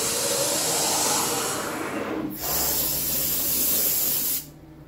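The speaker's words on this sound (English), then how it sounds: "The rack will blow off." Compressed air blows off the tool changer rack of a PrintNC PRO CNC machine in two loud, close hissing blasts, the first longer and the second brief, each ending abruptly.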